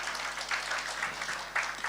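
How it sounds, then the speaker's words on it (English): Audience applause after a lecture at a girls' high school anniversary event, a steady wash of many hands clapping at moderate volume, with small swells and no voices. "Give her a round of applause once more."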